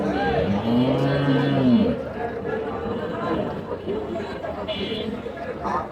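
Cows moo at a rural cattle market selling dairy cows: one long, loud, close moo opens the scene, followed by fainter lowing and steady crowd chatter and people talking throughout.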